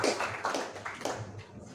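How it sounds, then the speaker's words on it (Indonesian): A church congregation at a Saturday service claps for Jesus, with quick rhythmic bursts of applause repeating about every half second in a short, moderately loud sequence. "Kita beri tepuk tangan buat Yesus yang baik."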